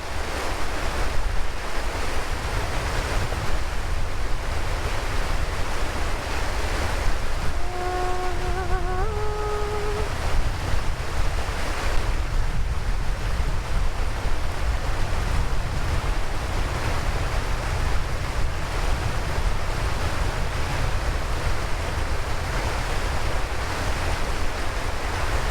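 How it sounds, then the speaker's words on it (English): Flowing river in a natural outdoor setting, a broad continuous rushing wash of water with wind noise, steady and unbroken, with a short bird call partway through. "So you can really hear the sound of the river."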